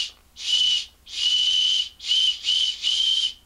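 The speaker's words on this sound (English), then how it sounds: "Whistle Pops! I forgot these existed." A Whistle Pops candy whistle is blown in five shrill, loud blasts, close up, with brief gaps between them and no talking.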